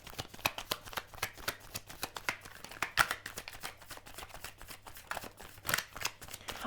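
Tarot cards are shuffled and drawn for a reading, producing rapid riffling flicks and soft slaps in uneven bursts, close and fairly quiet, with no talking.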